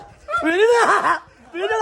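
A dog at a park in Wayanad gives drawn-out, wavering whines and yelps in two close bursts separated by a brief pause.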